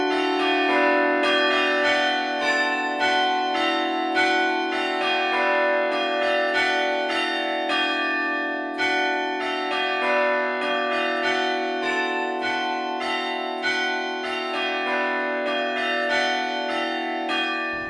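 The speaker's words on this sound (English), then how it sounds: "they are tuned so that you can actually play a simple tune on the bells" Five tuned bells in a mission bell tower at Mission San Luis Obispo ring out a simple tune, clear and loud, with struck notes following one another in a steady melodic sequence and long ringing overtones, no voices.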